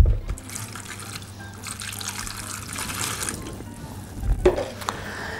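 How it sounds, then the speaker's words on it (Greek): Lukewarm water pours into a bowl while bread dough is being prepared, a soft continuous trickle with faint stirring and a brief clink near the end. "Χλιαρό νεράκι."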